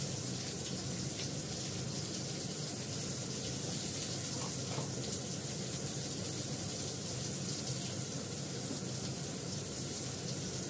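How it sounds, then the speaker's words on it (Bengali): Water poured into a pan of fish and potato curry makes a continuous, even rushing splash that stays steady for about eleven seconds. "এবার নাড়াচাড়া করে জল দিয়ে দেবো।"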